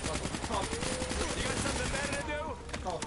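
Dense automatic gunfire crackles continuously through a Black Ops III match, loud and close, thinning near the end as a voice talks over it.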